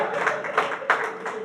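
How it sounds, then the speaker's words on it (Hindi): An audience claps with a brief, ragged burst of applause made of several overlapping hand claps close by, with no speech over it. "ताली आपने गलत जगह पे बजाई"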